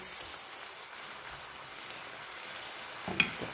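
Chicken breast is stirred in a hot pan, giving a faint, steady sizzle with soft scraping. A brief clack comes near the end.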